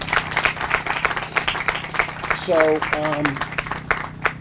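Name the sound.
applause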